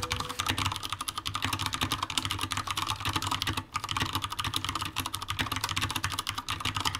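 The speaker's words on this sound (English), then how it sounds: "The problems that we have with mechanical keyboards is they're quite loud" Rapid, continuous clicking of keys on a loud mechanical computer keyboard, close and steady for the whole stretch with only a brief pause, no voices.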